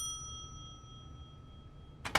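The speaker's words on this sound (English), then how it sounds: "O i-ring natin yung bell." A shop-counter bell in The Wolf Among Us gives one bright, short ring near the end, sounding out loud and close after a stretch of quiet hum.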